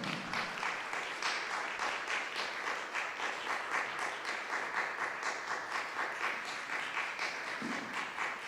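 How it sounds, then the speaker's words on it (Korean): A worship-service congregation gives sustained, steady applause to welcome a pastor, even and continuous clapping from a sizeable crowd heard at a moderate distance with no talking over it. "우리 목사님 나오실 때까지 큰 박수로 좀 환영했으면 좋겠습니다"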